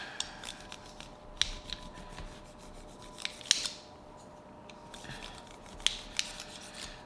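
Burrs being filed off plastic hub and arm parts while building a Team Associated B7 RC car, giving quiet, close scraping rasps in short irregular strokes with a few sharper clicks.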